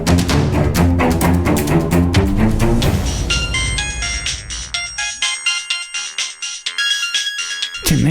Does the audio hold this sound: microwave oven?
no